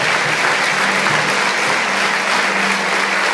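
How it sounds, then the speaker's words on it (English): A talk show audience breaks into loud, dense applause, a steady wash of clapping that stays level from start to finish with no talking over it. "Round of applause for us."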